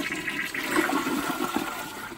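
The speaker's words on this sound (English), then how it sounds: "Let's try it. Let's do it. First flush." A freshly built off-grid campsite flushing toilet gives its first flush, a loud steady rush of swirling, gurgling water lasting about two seconds, with no talk over it.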